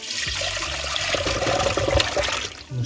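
Cold water poured into a colander while cooking potato noodles, a steady splashing, trickling stream close by that runs throughout and eases off at the end.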